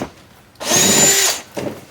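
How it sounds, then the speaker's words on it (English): Power drill boring a vent hole through a steel bicycle track fork blade near the brass and dropout, one sustained whining bite lasting under a second, then a brief second burst, close and loud. "I want to make sure I'm not drilling in just a pocket of brass and dropout."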